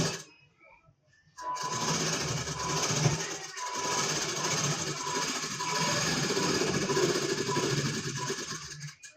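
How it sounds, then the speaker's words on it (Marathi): A sewing machine runs steadily for about eight seconds, stitching a strip onto a blouse, after a brief quiet start; the motor's whir stays loud and continuous, with faint voice traces underneath. "शिलाई करून घ्यायचं आहे."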